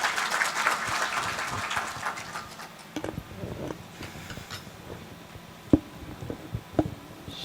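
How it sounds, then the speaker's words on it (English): Applause from a policy session audience on construction and demolition, fairly dense at first and then thinning into scattered individual claps with a few sharper louder ones near the end. "I request for a huge round of applause for the Minister"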